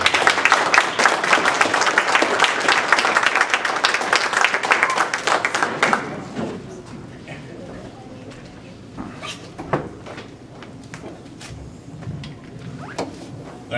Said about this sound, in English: Let's have a big hand of applause for Greg Fettig.